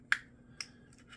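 A plastic tab pops loose from the center console of a 2019-or-later Hyundai Elantra, making two sharp close clicks about half a second apart, followed by faint small ticks.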